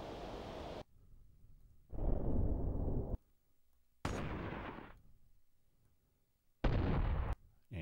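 Gunshot sound-effect layers play one after another as separate sharp bursts and booms, each ending abruptly, with near silence between them.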